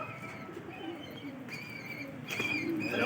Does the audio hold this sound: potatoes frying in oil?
no